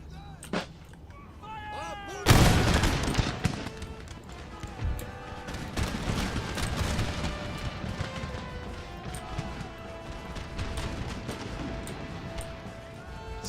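Musket volleys crack in the Empire: Total War battle, a sharp loud burst followed by scattered rolling gunfire and rumbling shots over a busy battlefield din, with faint speech mixed in.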